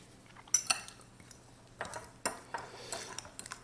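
Metal utensil clinking and scraping against a bowl while melted butter is stirred into a keto cheesecake crust mix, a few sharp taps and scattered soft scrapes, close and fairly quiet.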